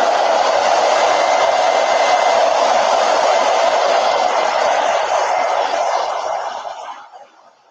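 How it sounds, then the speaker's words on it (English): A hair dryer blows steadily over wet chalk paint on pumpkins stenciled on a fall sign, a loud, even whoosh held for about six seconds before it winds down and cuts off at the end. "let me hit those pumpkins with the dryer because they look the slightest bit wet"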